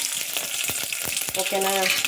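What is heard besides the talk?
hot oil sizzling for tempering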